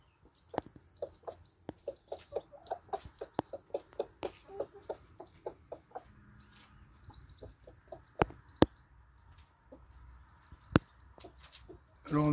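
Chickens and a large cockerel cluck in a quick, repetitive series of short calls, with scattered louder clucks and quieter stretches between them, close by.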